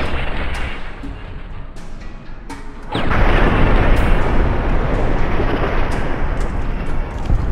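Fallout New Vegas gameplay with a few sharp shotgun blasts early on, then a sudden heavy boom that leaves a loud, rumbling roar lasting to the end.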